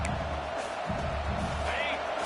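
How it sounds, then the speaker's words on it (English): Steady roar of a football stadium crowd during a game, a broad continuous wash of noise with a brief whistle-like tone partway through. "This crowd trying to make life miserable for this offense."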